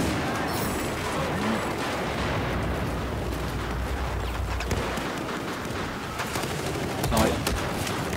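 Shotgun fire in the console shooter Battlefield 4, including slug rounds, comes as dense repeated blasts and battle noise over a constant rumbling din, with a loud burst near the end.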